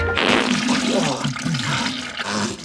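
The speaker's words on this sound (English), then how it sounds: "our hotel had flushing toilets, because the rest of the evening looked a little like this" A hotel toilet in Liberia flushes loudly up close, a rushing surge of water that swirls and gurgles for a few seconds.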